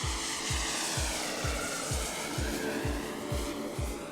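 Giant-scale RC Skyraider model airplane in flight, its engine giving a steady, loud propeller drone with a regular low throbbing pulse about twice a second throughout.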